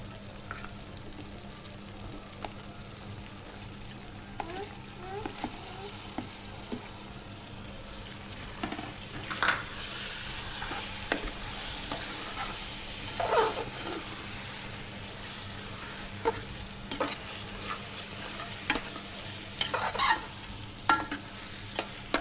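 Marinated prawns fry in a pan for prawn biryani, a constant close sizzle broken by scraping stirs and occasional clinks of the spoon against the pan.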